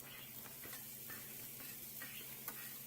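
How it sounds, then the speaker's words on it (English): Garlic and shallots frying in olive oil in a pan give a faint, steady sizzle, with a few soft clicks of stirring on top. "we're adding the garlic and the shallots"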